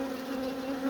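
Honey bees buzzing around wooden hive frames during a honey harvest, a steady close drone with a strong low hum that swells slightly near the end, no voices.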